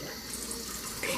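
Water running steadily from a tap into cornstarch for a cake, a continuous close splashing gush throughout, swelling slightly louder at the end.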